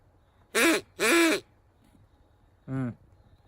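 Three nasal, honking duck-call blasts, two quick ones close together then a shorter one after a pause, loud and close in a quiet room.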